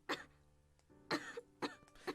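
A girl coughs behind a closed door in the visual novel ToHeart2, giving a few short muffled coughs in uneven succession, close but soft.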